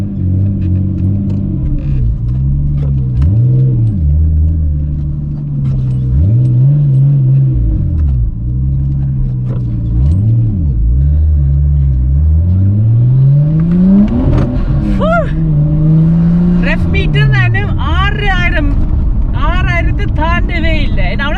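A Nissan Skyline GT-R34 turning through a U-turn, its engine holding a deep rumble with repeated rev swells, then climbing higher and busier toward the end, loud and close throughout.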